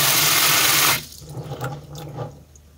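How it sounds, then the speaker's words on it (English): Water runs into beans in a stainless steel casserole, a loud steady pour for about a second that stops abruptly, followed by faint drips and small clinks. "We just add a little water in our beans."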